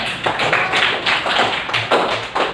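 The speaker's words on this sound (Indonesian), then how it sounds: "tepuk tangan untuk semuanya" Applause from a classroom group of students clapping for everyone, a dense continuous patter of many hands at close range, steady throughout with no voices over it.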